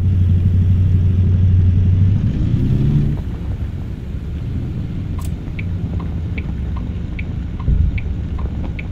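Truck tyres rolling and crunching over dirt and stones in American Truck Simulator, a steady low rumble with a heavier engine drone early on and light clicks scattered through, continuous and fairly loud.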